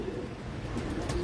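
Pigeons coo softly in a loft, a brief, low, murmuring call heard faintly against background noise.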